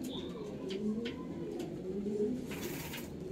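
Pigeons coo repeatedly in low, throaty, rolling phrases, close by, with a faint bird chirp in the background.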